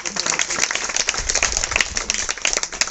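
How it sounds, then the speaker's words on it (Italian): A crowd at a museum event in Ariano nel Polesine, Italy, applauds continuously, a dense crackle of many hands clapping at once, fairly close and steady throughout. "in realtà l'applauso va lo stesso anche a Lidia Santin"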